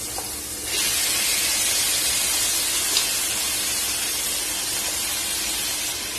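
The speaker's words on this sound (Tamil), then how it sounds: "இஞ்சி பூண்டு விழுது லேசா வதங்கினதும் ஒரு 1/2 கிலோ அளவுக்கு மட்டன் எடுத்து வச்சிருக்கிறேன். இதை வந்து சேர்த்திக்கலாம்." Mutton hitting hot ginger garlic paste in a pan sets off a loud, steady sizzle and hiss that swells after the first half second and holds evenly to the end, with no one talking.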